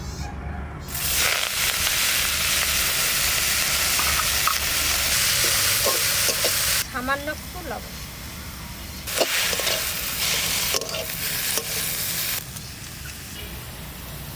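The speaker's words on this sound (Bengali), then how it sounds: "ওই তেলের মধ্যে শাকটা ভাজা করব" Leafy greens frying in hot hilsa fish oil in a bowl over a fire, giving a continuous loud sizzle broken by stirring scrapes and clinks, with a brief spoken word or two.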